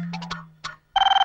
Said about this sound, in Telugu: జస్ట్ మినిట్, ఫోన్ మా ఇంటి నుంచి అనుకుంటా.